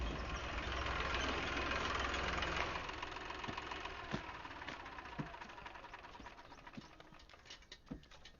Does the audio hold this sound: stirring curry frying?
no